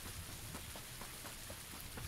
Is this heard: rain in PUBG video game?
yes